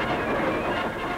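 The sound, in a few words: supply train of boxcars rolling on rails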